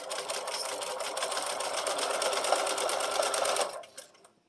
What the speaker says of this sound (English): I'm now going to put my needle, my presser foot back down and continue sewing.